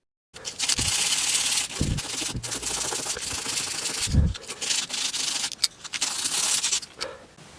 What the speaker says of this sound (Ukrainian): Тепер беремо наждачку і щищаємо сліди маркеру з поверхні текстоліту.